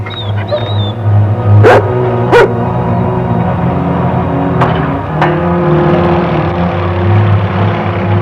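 A dog in a western TV show gives a few short sharp barks and yips over a constant low engine-like hum, the barks spaced a second or more apart.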